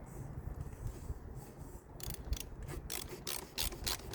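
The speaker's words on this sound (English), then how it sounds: "Give it a little help with the ratchet." A ratchet clicks steadily as a fastener is turned during an oil change on a 2017 BMW 530e G30 hybrid, close-up metallic pawl ticks in a regular rhythm over faint background noise.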